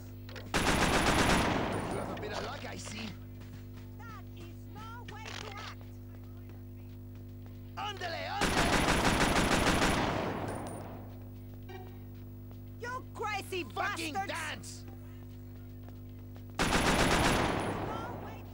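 Shotgun blasts and gunfire in the PS2 video game Scarface: The World Is Yours, three loud bursts spaced several seconds apart over a constant game hum, with scattered game sound effects between them.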